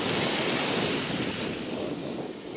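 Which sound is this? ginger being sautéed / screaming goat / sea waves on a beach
sea waves on a beach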